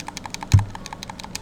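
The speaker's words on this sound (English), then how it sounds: "Can you hear that clicking?" Rapid run of light plastic clicks from repeated button presses, evenly spaced about ten times per second, with one heavier thump in the middle, close and alone.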